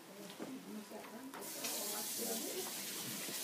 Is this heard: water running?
yes